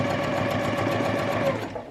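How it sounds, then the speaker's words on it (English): A sewing machine runs continuously, stitching a quarter-inch quilt seam on a mini poinsettia tree quilt, its fast even motor whir loud and close, easing off at the very end. "And so we'll just come down here, sewing that 1/4 inch."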